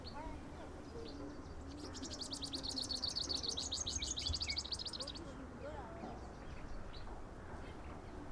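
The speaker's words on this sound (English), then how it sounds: "Let us start with this little purple sunbird." A small purple sunbird calls outdoors with a faint, rapid, high twittering trill lasting a few seconds amid other quiet bird chirps and soft background noise.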